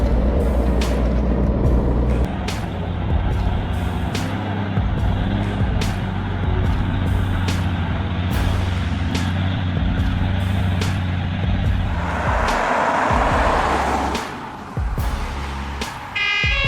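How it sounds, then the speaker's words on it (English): A heavy logging truck's engine roars on a forest road, a loud, sustained low rumble with repeated sharp hiss-like bursts, a brief rising whoosh near the end, then a dip in level. "The truck moved slowly, the roar of the engine breaking the silence of the forest."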